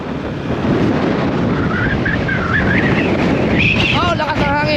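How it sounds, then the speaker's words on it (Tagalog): Strong, steady wind roars across the microphone in cold outdoor weather, with a voice calling out briefly over the blustery rush. "lakas ng hangin."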